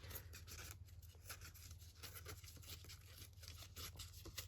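Paper torn by hand while making a junk journal, a soft continuous rasping rip with small rhythmic pulls, close and quiet, no voices.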